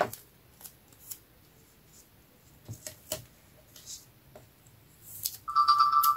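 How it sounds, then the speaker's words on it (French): Soft snips and clicks give way to a phone alarm starting up near the end, a repeating electronic tone, close and clear. "c'était l'alarme de mon portable"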